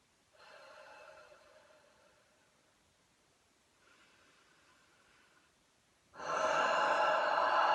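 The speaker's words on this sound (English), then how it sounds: "Now I'm going to do the same for the long huff." Breathing exercises from the active cycle of breathing technique: two soft, airy exhalations, then a long, loud, forceful huff that ends the sequence, with nothing else heard.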